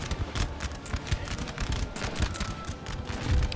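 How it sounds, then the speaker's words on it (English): Musket volleys in the Napoleonic battle game Napoleon Total War, with a dense, continuous crackle of overlapping distant gunshots and low thumps forming a steady battle din, without speech. "And we're firing muskets."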